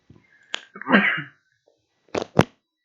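A single sharp sneeze bursts out close and loud, followed a moment later by a couple of short muffled sounds, with quiet gaps in between.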